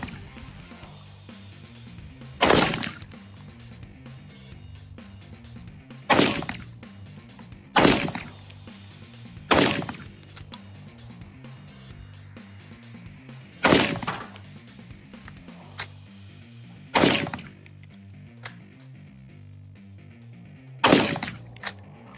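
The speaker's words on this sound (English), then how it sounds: "we're gonna do 25 yards, the braced pistol, and see how that does" Single shots from a braced AR pistol fired at targets 25 yards away, loud sharp cracks spaced a few seconds apart, about nine in all, over quiet outdoor background.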